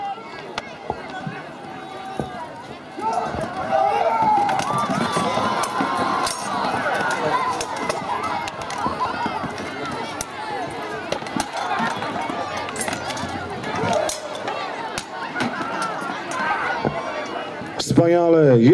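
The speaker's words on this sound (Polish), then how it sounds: "Ciosy toporem, straszne uderzenia padają na głowy walczących wojów." Axe blows thud and crack in a reenacted warrior fight inside a ring at an archaeological festival, sharp irregular impacts scattered under a loud announcer's voice and a murmuring crowd.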